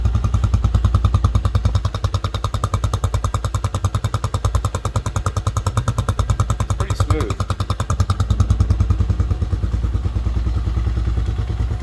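An RPS Hawk 250 enduro motorcycle engine idles loudly and steadily, with a fast rhythmic valve-ticking clatter running through the whole stretch.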